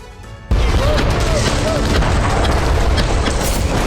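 Explosions from Israeli artillery and air bombardment with fighter jets overhead, a sudden loud onset into a sustained, dense roar of blasts and rumbling debris that keeps going without a break.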